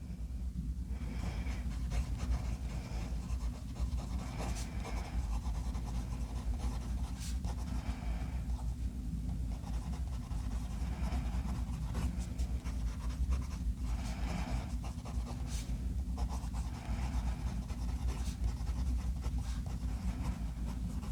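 Benu fountain pen with a Schmidt nib writing in shimmering ink on paper, soft faint scratches in short bursts, with pauses between the strokes.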